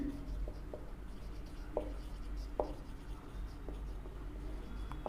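Pen or pencil writing a regression equation on paper during a maths lesson, faint scratchy strokes with a few sharper taps over a steady low room hum, no talking.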